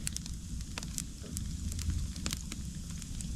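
Campfire burning outdoors at breakfast: sharp, scattered pops and crackles snap over a steady low roar of flames and wind-like rush.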